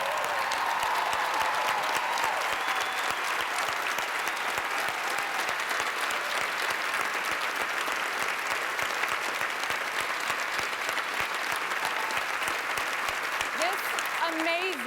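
A telethon audience at the 2012 Stand Up To Cancer broadcast rises and applauds, dense sustained clapping and cheering filling the hall loudly for the whole stretch, with a voice faintly audible beneath it.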